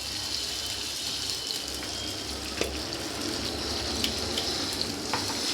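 A bay leaf sizzles in hot oil for an eggplant dish, giving a steady, dense frying hiss with a few faint crackles, fairly close, with nobody speaking.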